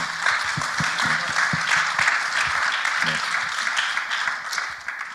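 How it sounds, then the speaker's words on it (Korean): Loud, dense applause of thanks from a church gathering at a mission fair review meeting, a full steady roar of clapping hands close by, with faint voices beneath it. "감사의 박수 한번."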